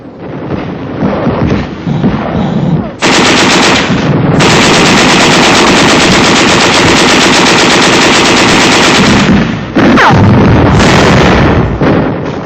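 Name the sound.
machine gun fire and shells in a 1945 combat film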